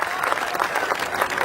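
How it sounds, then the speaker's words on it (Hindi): Brisk crowd applause at a Hindi comedy poetry show, many hands clapping together in a loud, even burst with faint crowd murmur. "तालियां कम है आपकी।"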